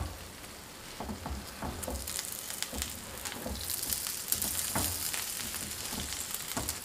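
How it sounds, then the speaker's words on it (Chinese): Small sesame paste flatbreads cook in a pan under a tall lid, crackling and sizzling steadily up close with irregular popping spits throughout. "盖上一个高一点的盖子，烙至2分钟左右，看到小饼全部鼓起来"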